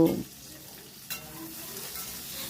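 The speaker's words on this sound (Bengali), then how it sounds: "অনবরত কিন্তু নাড়তে হবে পেঁয়াজটাকে আর রসুনটাকে আমি একটু ভাজা ভাজা মতো করে নেব" Chopped onion and garlic fry together in a pan over a high flame, giving a continuous soft sizzle broken by a spatula scrape at the start and another about a second later.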